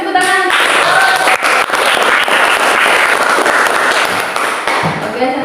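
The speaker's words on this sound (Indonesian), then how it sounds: "kasih tepuk tangan" Classroom applause fills the room, a dense, loud burst of many hands clapping close by for about five seconds, with a voice heard at the start and end.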